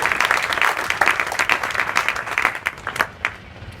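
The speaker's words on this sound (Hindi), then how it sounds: "पहले तो अपने लिए ताली हो जाए" Schoolchildren in a classroom clap for themselves. The crisp, rapid clapping is loud and close at first, then thins out and fades toward the end.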